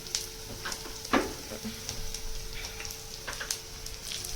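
Dal and peanuts sizzle and fry together in a hot pan, a steady close crackling hiss with scattered small pops and a few louder spits, no voices.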